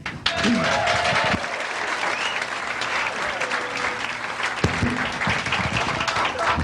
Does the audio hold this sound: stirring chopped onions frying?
no